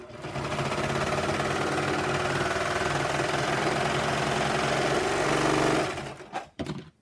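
A sewing machine runs a regular straight stitch along a tote bag seam, a steady loud mechanical whir for about six seconds, then stops with a few clicks and handling knocks.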